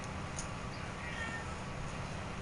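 A house cat lets out a couple of meows, soft and not close, heard over a continuous noisy hum.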